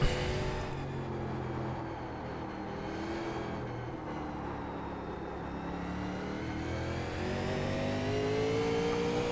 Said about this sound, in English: Nearly downshifted too quickly there and over-revved it.